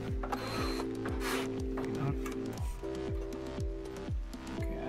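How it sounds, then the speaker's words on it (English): A power drill removes screws from an Antminer S7 mining unit, whirring in short repeated bursts, its pitch sliding up each time it spins, close by with faint clicking and handling noises. "I use a screwdriver sometimes, but for the sake of the video, I use a drill."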